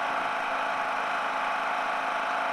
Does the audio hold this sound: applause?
no